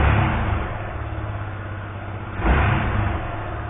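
A Yamaha XTZ Ténéré motorcycle engine holds a steady, rough mid-pitched idle close by, then gets a short throttle blip that swells louder before settling back.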